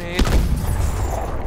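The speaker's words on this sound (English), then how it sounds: "Okay, tossing a grenade" A grenade detonating in Call of Duty: Advanced Warfare, a single heavy low boom with a rumbling decay lasting over a second.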